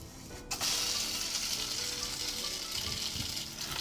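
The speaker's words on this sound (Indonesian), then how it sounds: "Setelah minyak panas lalu goreng daging ikan." Fish meat hits hot oil in a pan and sizzles at once, a loud, continuous crackling hiss that keeps going steadily.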